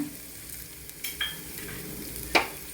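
Chopped green chillies and onion fry in a pan for cutlets, giving a soft steady sizzle with a few faint clinks and scrapes of stirring.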